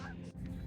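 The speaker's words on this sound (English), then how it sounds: "Some Canada geese." Canada geese honk in a quick burst of nasal calls outdoors in Toronto, with a low background rumble.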